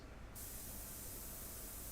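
An airbrush sprays paint at about 30 PSI on a portrait. A faint hiss turns into a steady, dense, close spray that holds evenly to the end, with no talking.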